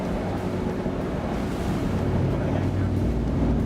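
A lifeboat carrying an emergency crew drives through the open sea, with a steady engine drone mixed with wind buffeting the microphone and the wash of waves.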